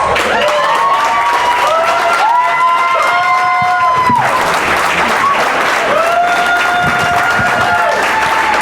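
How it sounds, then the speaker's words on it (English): A hall full of people applauds and cheers loudly and continuously at an athletic hall of fame induction, with scattered whoops and shouts over the dense clapping. "If you could please give him a round of applause to come up here and accept his award."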